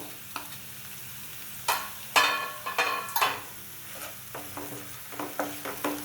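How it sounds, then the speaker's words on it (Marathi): Ginger garlic paste with curry leaves sautéing in a pan for Malvani-style suran bhaji, a steady soft sizzle broken by several sharp stirring scrapes and spoon knocks, close and fairly loud with no talking. "व्यवस्थित परतून घेऊया। लसणीचा कच्चा वास सगळा जाईपर्यंत आपल्याला परतून घ्यायचं।"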